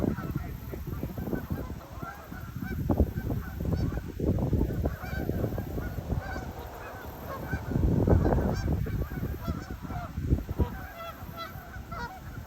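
A flock of Canada geese gathering on a lake honks continuously, many overlapping calls near and far forming a loud, busy chorus.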